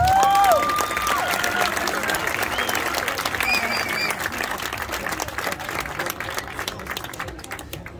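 Spectators at a Brazilian jiu-jitsu quarterfinal in Cyprus applaud in a dense, continuous patter of clapping that slowly fades, with a few whistles and shouts rising above it early on.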